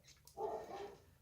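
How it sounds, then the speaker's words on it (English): A dog indoors gives a single short, faint bark from some distance away, set against near silence. "I'm sorry my dogs are barking."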